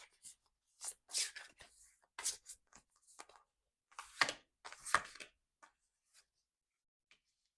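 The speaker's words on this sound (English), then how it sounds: "I'm just gonna do a very, very light, basic shuffle." Light, quick riffling and soft flapping bursts of oracle cards being shuffled close by, in several short clusters with pauses between.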